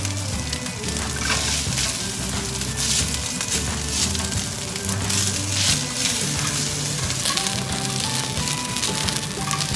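Egg fried rice sizzles and crackles in a hot pan during stir-frying, a steady dense hiss with scraping, tossing sounds throughout.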